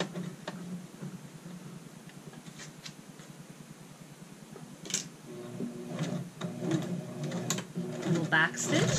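A home sewing machine runs a short back stitch at the shoulder seam of a child's shirt, its fine rapid ticking mechanism coming in bursts that grow louder toward the end, with a voice talking over it.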